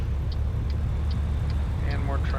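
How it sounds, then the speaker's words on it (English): Road traffic in the American Truck Simulator video game: a steady low engine rumble of trucks approaching along the road, continuous and fairly close, with light ticking and rising tones over it. "We've got a truck coming"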